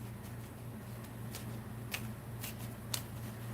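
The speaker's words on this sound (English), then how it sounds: "And I'm such a good card shuffler." Deck of playing cards shuffled at a crafting table, a faint soft riffle with a few sharper snaps, under a steady low hum.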